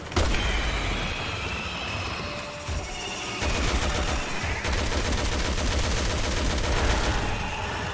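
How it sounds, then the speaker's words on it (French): Rapid, dense gunfire from the video game Resident Evil 6 rattles on continuously, loud and close, in overlapping bursts with no pauses. "Je vais tirer dans la tête, headshot."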